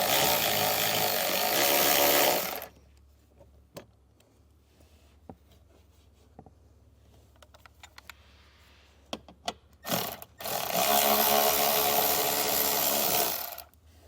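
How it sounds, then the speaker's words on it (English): A socket wrench backs out 7mm hex-head screws from a vehicle panel: sparse ratcheting clicks and small metallic taps, bracketed by long stretches of loud broadband noise at the start and end. "We'll go ahead and get our socket and get those removed."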